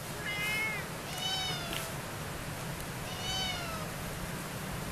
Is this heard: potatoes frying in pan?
no